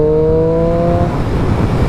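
A 2018 Triumph Street Triple RS motorcycle in rain mode gives a short, loud, close engine note that rises briefly under throttle and then turns rougher and more muffled.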